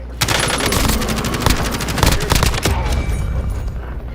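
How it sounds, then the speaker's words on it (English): Dense, loud gunfire fills a video game firefight, with rapid automatic bursts and scattered booms from thrown grenades layered throughout. "They keep throwing grenades."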